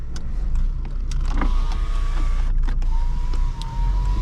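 Automatic power driver window motor of a 2007 Honda Civic LX whirring steadily inside the car, a close, continuous electric hum lasting several seconds with a brief pause near the end.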